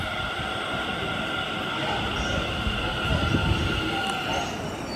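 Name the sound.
Delhi metro train arriving at station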